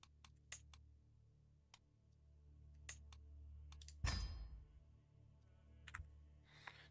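Faint, sparse menu clicks in the strategy game Piasts in Poland, single sharp ticks spaced irregularly over a low hum, with one duller thud midway.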